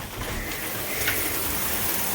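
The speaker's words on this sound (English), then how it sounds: "It's raining really hard out there." Heavy rain pours steadily outside, a dense, even broadband hiss with no breaks or distinct drops, fairly loud and continuous with no voices.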